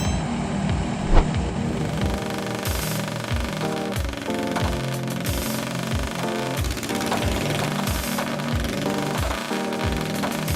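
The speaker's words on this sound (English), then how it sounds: "W210 asphalt milling machine with its powerful engine roared like a hurricane, its sharp blades cutting through the thick layer of road surface" A W210 asphalt milling machine's engine and cutting drum tearing into road surface, a loud continuous rattling and pounding with rapid rhythmic impacts over a heavy diesel roar, close and constant throughout.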